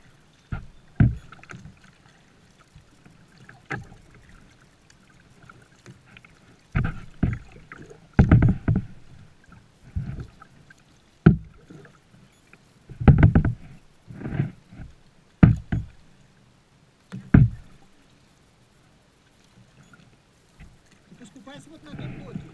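A kayak being paddled on warm ocean water near boats: irregular splashes and wet paddle strokes come in clusters with quiet gaps between them, close and fairly loud. People talk quietly in between the strokes.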